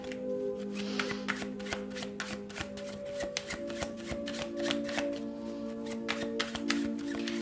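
Tarot cards are shuffled close by in a long run of quick, crisp riffles and flicks, over a faint steady tonal hum.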